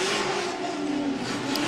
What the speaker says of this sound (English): there's some celebratory donuts for our 1 and 2 here at round 6 of the Formula Drift Pro Championship.